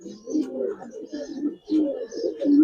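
A Kaldom pigeon coos in low, rolling bursts close by, three or four throaty phrases in quick succession.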